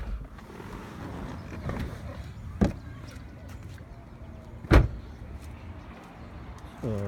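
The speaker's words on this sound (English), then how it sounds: "Pop the hood." The hood of a Honda Civic EP3 with 200,000 miles is released and lifted, giving two sharp, close metallic clunks a couple of seconds apart over a quiet background.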